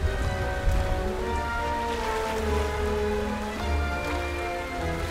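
Rain falling steadily in a city at night, a continuous close hiss with some low rumble and tonal background music over it, no talk.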